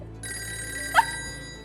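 A telephone bell rings in a single short burst, a bright metallic trill that swells briefly and fades, heard fairly close over a quiet room background with no talk.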